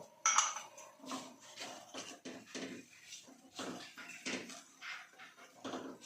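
Homemade red chilli powder is stirred into raw mango pickle in a bowl, producing faint, intermittent scraping and soft clinks of a spoon at close range.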